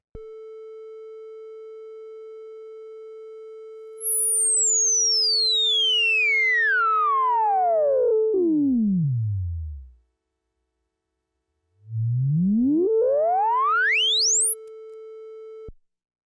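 A Minimoog analog synthesizer holds a steady tone while its filter cutoff sweeps down until the sound closes to near silence, then sweeps back up, ending on a bright sustained note.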